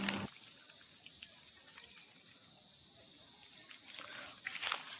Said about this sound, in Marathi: बोरिंगचं पाणी उडलंय